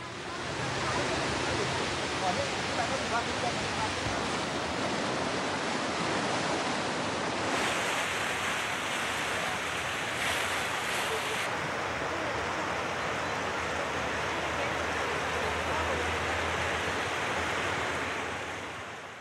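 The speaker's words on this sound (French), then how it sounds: "C'est l'occasion d'admirer de splendides chutes, dont certaines atteignent jusqu'à 80 mètres de haut." Tall waterfalls up to 80 metres high and a river in Sichuan, China, giving a steady, dense roar of rushing water that stays loud and unbroken throughout with no voices.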